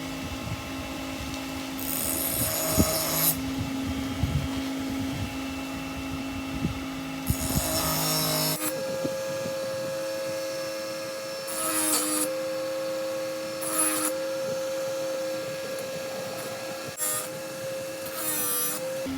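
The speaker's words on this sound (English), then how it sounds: "So now I'm going to sharpen the blade." Hand file working along the worn teeth of a saw blade, dulled from cutting, in rapid rasping strokes that come in short bursts against a steady background hum.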